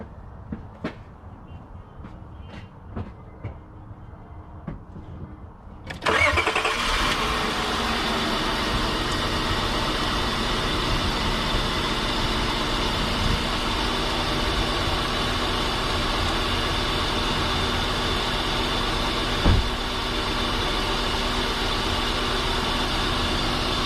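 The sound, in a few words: car engine starting and idling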